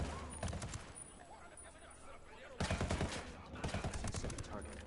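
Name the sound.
gunfire from Ghost Recon video game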